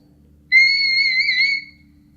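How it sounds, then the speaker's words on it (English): A singer producing a whistle-register tone with the vocal folds, giving one clear, high, sustained pure note that lasts about a second, loud and alone in a quiet room. "I'm whistling with my vocal folds"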